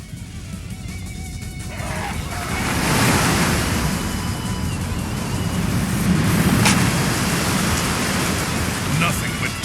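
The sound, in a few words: rushing water in Dynasty Warriors 6 video game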